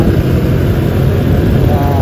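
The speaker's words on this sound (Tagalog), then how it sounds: "Yung motor." A motorcycle engine drones steadily and loudly throughout, on a Calamba, Laguna road, with a rumbling low-frequency tone and broadband road noise.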